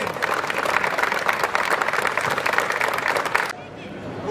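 Protest crowd at a street demonstration applauding and ululating, dense sustained clapping with high trilling voices for about three and a half seconds before it drops away abruptly.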